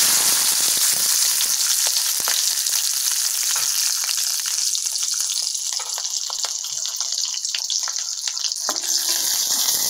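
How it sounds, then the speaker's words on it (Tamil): Onions fry in hot oil in a pan while a sardine curry is being made, producing a loud, continuous hissing sizzle that holds steady throughout with no voices. "இப்போ எண்ணெய் சூடாகிடுச்சுங்க, நம்ம முழுசாக வச்சுருந்தோம் இல்லையா அந்த வெங்காயத்தை போட்டுக்கலாம்."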